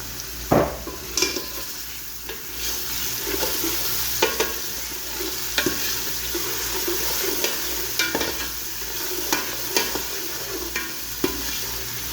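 Spices, dried red chillies, curry leaves and mustard seeds sizzle in hot oil in a pan for kaddu dal, with a constant crackling fry punctuated by sharp spoon scrapes and stirring knocks, close and clear without speech.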